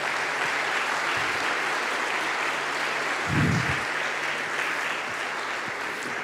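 Congregation applause during a Christmas sermon, a steady wash of clapping across the hall with a brief low thump partway through.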